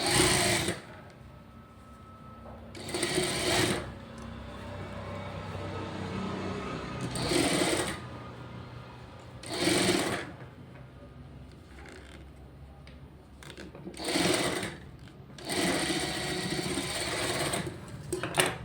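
A computer embroidery sewing machine stitches a blouse in steady running bursts, with louder stretches roughly every couple of seconds over a continuous mechanical hum.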